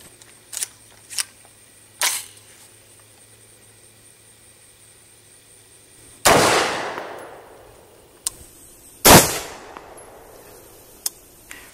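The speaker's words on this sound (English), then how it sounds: "These Midwest Armor ceramic plates we're going to shoot first with .556, some of the penetrator rounds, and then we're going to shoot 3 rounds of .308." Rifle shots in .556 and .308 fired at Midwest Armor Guardian IV ceramic body armor plates outdoors: a few sharp clicks, then two loud cracks with ringing decay several seconds apart, and faint ticks between.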